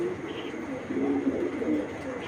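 Female racing pigeon of Belgian bloodline cooing nearby, a few soft throaty coos rising and falling over light background noise, with no speech.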